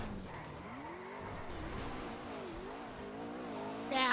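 A car in the GTA NoPixel video game drives with a steady wavering engine drone and some tire noise, ending in a sudden louder crunch of impact at the very end.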